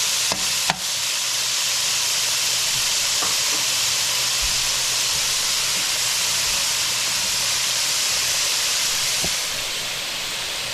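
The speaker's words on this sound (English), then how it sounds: "We're gonna fry that up with some shrimp." Long beans (bora) frying with shrimp in a pan give a loud, steady hiss and sizzle that runs unbroken throughout, with a couple of brief clinks near the start.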